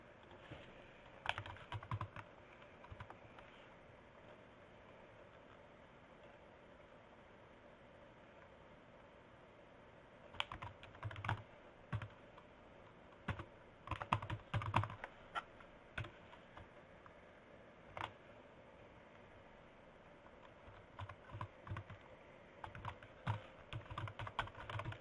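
Computer keyboard typing while an email address is entered, in bursts of quick, light key clicks separated by quiet pauses, close and clear with no voices.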